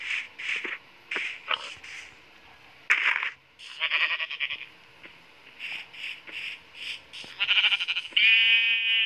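Sheep in a crafting video game give a rapid series of short, close bleats, one after another, with brief gaps between them. A longer, louder bleat comes at the end.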